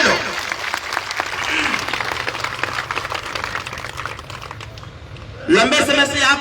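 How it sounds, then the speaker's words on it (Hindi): A large crowd at a village gathering in Ballia gives loud, sustained clapping for several seconds, tapering off, before a fresh burst of applause swells up near the end. "एक बार जोरदार ताली बजा के अपना अपना स्वागत करिए सभी लोग।"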